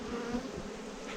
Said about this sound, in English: Okay, we've opened the hive. Obviously got a few cranky bees.